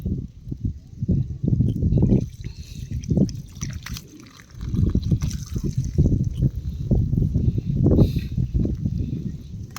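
Water is released into a guava orchard on a hot farm about 40 km from Bengaluru, trickling and splashing in uneven bursts and dribbles near at hand, with faint background clatter.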